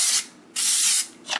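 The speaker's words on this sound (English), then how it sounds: "I'm gonna use some cooking spray" Cooking spray is spritzed onto keto cookies on a cooling rack in three short bursts, a close hissing spray with brief pauses between, the last burst shortest.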